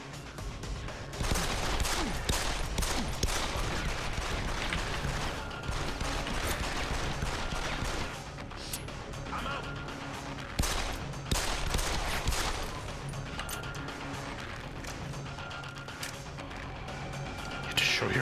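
Bursts of gunfire in Deus Ex: Human Revolution, a fairly steady clatter of shots with a few louder cracks, mid-distance and moderately loud, with people talking over it.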